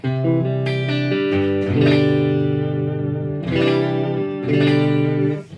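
Electric guitar played through a Fractal AX8 multi-effects unit with cabinet simulation, delay and reverb, sustained chords and ringing notes with a processed, spacious tone, loud and alone with no talking.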